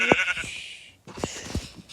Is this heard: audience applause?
no